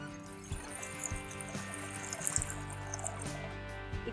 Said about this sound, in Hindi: मैं पानी डाल देती हूँ।